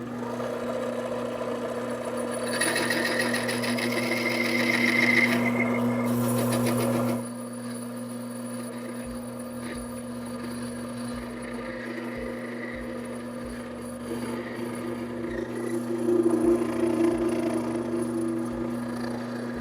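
A lathe takes a machining pass across the alternator disc of a 1979 Honda CBX motorcycle. A steady mechanical hum runs throughout, with a harsher, louder cutting whine for the first seven seconds and another brief rise near the end.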